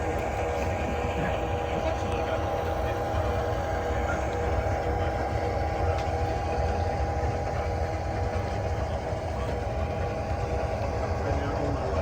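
An HO scale model locomotive, an SD9 on a Sacramento Northern themed layout, being broken in as it runs steadily, giving a continuous close motor whine and rolling rumble with no pauses and no talking.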